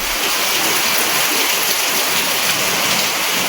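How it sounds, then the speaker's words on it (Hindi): Heavy monsoon rain pouring down outside a home balcony, a dense, steady hiss of falling water that fills the whole stretch without pause, loud and close with no voices. "बारिश बहुत ज़्यादा हो रही है"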